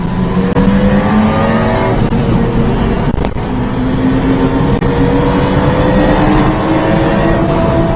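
A Mitsubishi mini-truck accelerates at full throttle, its small engine revving loud and close with rising whine as gears climb, steady and unbroken for several seconds.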